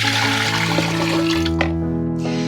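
Eight cups of water pour steadily into a pressure canner for home canning, a loud close continuous splash and gurgle that tails off near the end.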